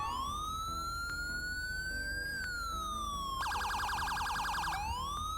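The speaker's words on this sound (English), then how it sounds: "So as you can hear, the sirens sound completely different right now" Emergency sirens wail continuously in GTA 5, sweeping up and down before switching to a rapid yelping pattern and back to a slow wail.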